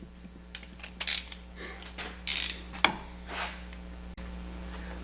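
A torque wrench tightening outboard motor bolts to 6.5 foot-pounds, heard as a few close ratchet clicks and short grinding bursts with a steady low hum beneath.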